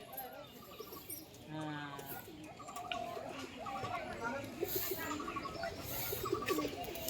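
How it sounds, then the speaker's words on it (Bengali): Pet pigeons coo in soft, repeated phrases, with other birds chirping around them and people talking nearby throughout. "এই একটা পায়রা এদিকে উঠছে"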